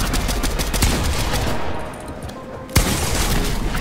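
Repeated gunshots in a Fortnite match, fast bursts of fire rattling steadily, briefly easing, then a sharp loud crack followed by more shooting.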